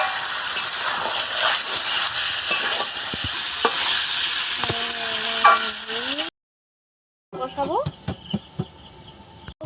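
Chicken pieces sautéed in oil over raised heat, releasing their fat as they are stirred, a dense close sizzle with scraping stirs, a short gap of silence, then more sizzling with sharp spatula knocks.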